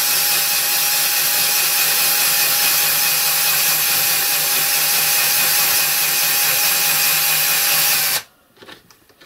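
A homemade watchmaker's mini lathe built from a vintage casting spins continuously with a steady, high whining drone while the carriage is moved along, loud and close, before cutting off abruptly near the end with a few small clicks.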